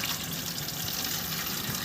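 Water running from a tap while being drawn for feeding rabbits, a soft continuous rushing stream heard close up and fairly quiet, with no talking.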